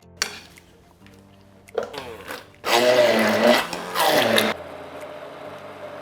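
A kitchen blender whirs in two loud bursts, grinding fruit pulp for a sauce, after a few quieter clatters of handling. It stops abruptly, leaving a faint low hum.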